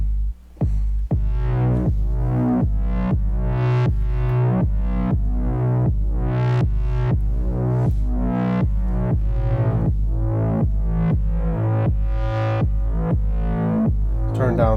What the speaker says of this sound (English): I'm gonna add some saturation to the bass line.